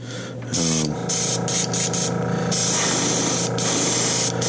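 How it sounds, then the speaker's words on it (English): Steady airbrush hiss spraying primer onto metal fishing lures runs almost the whole time, close and continuous, with brief pauses and changes in the spray flow. "spray a nice little primer coat on this, just to always bring out my colors."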